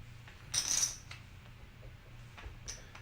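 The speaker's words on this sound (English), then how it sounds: "I'm shuffling poker chips at a poker table" Poker chips clatter and click at a poker table in a quick bright burst, then a few lighter scattered clicks follow, close and fairly quiet, with no talk.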